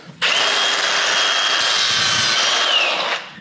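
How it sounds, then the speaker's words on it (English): An angle grinder cuts through a brake line on a GM 10 bolt rear axle, a single loud, close, high-pitched metallic whine that holds steady for about three seconds and then stops, no voices. "we're gonna grab the grinder and just snip that"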